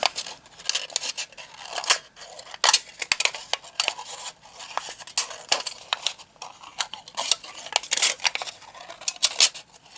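Scissors snipping a spiral out of a thin aluminum soda can, with close, crisp metallic cuts repeating in a steady irregular rhythm and no voices over them.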